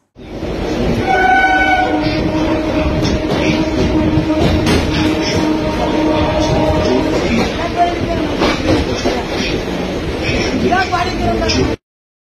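A passenger train rumbles steadily, with rail clatter, while another train passes alongside; the loud, continuous rolling and clanking fill the whole stretch before cutting off abruptly, and a person talks over it.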